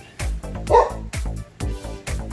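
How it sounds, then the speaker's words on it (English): A dog barks repeatedly nearby, with loud, deep barks coming in a steady rhythm of about five or six. "probably there was someone at the door, that's why Bruce is barking"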